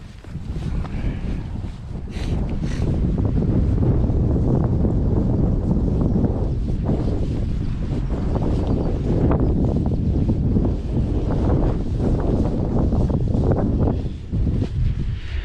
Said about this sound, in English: Here it is windy, so you might get some wind sound.